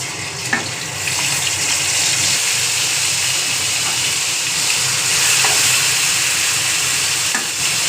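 Ground kharkul spice paste hits hot, smoking oil in a pan, giving a steady loud sizzle and frying hiss that runs throughout with a few faint utensil clicks, no talking.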